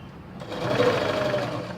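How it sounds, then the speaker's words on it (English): A sewing machine stitching along the neckline of a kurti, a steady close mechanical whir that speeds up slightly and holds for a couple of seconds. "I'll take this needle to the right side and start sewing it. So it will run along the edges of the neckline."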